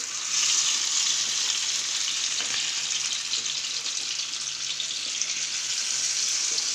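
Fish roe frying in a pan, a steady bright sizzle that holds evenly throughout at close range, with no talking.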